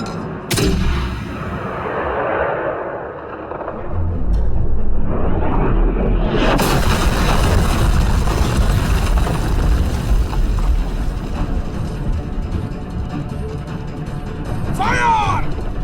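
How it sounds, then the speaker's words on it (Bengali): Mortar fire booms through a movie battle scene, with heavy blasts and rumbling detonations amid continuous gunfire and chaotic noise, loud and close, with voices shouting over the fighting. "মোটর ছোড়ো।"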